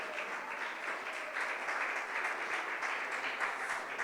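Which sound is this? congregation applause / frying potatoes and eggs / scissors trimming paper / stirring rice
congregation applause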